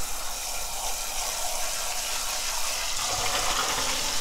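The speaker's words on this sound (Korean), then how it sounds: "데친 다음에 깨끗이 씻어줘. 찬물에." Blanched butterbur greens are rinsed under cold running water, a steady broadband splashing and gushing that continues without pause for the whole stretch, fairly close and with no one speaking.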